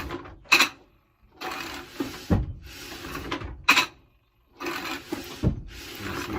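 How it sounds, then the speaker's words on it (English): A Louët Dobby loom mechanism advancing each time the treadle is pressed, with repeated bursts of clattering wooden and mechanical clicks separated by short pauses, close by and moderately loud, with no voices. "My Dobby just activated and moved to the second active pick."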